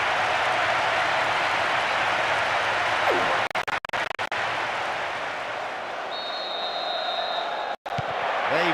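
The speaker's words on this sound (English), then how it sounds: "The stadium is shaking because they're jumping up and down and making so much noise." A football video game stadium crowd (PES 2009 on PlayStation 2) roars continuously after a strike, a loud sustained cheer with a few abrupt cuts and a brief whistle-like tone.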